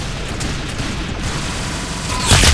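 Dense, loud gunfire from the Roblox game Arsenal, a continuous rattling barrage of rapid shots lasting the whole moment and swelling into a heavier burst at the end.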